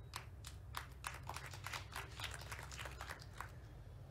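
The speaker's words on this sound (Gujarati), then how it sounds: "અહીંયા જેટલા પણ બેઠેલા છે તેમણે તો તાળીઓના ગડગડાટ કર્યા" Crowd clapping at an outdoor political gathering in Gujarat, a steady, dense patter of many hands over a low rumbling background hum, moderately distant and sustained throughout.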